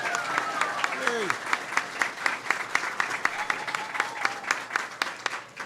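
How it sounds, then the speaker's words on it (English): Embassy staff in Cuba clapping, a steady patter of applause from a roomful of people with a voice speaking over it. "Give him a big round of applause."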